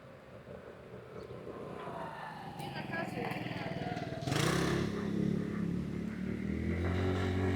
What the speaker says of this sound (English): up ahead I see a scooter coming, or an e-bike or something